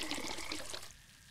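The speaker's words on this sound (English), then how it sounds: "Now I have a bucket full of clean, fresh water" Water pouring into a bucket in the video game Memoranda, a broad splashing rush that runs steadily for most of a second and then drops away to a quiet tail.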